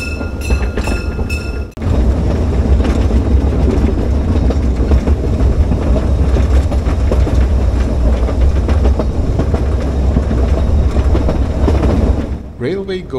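A steam train on the Cottbus park railway rumbles steadily past, loud and close, with continuous rolling noise and clattering wheels after a brief bell-like chime at the start.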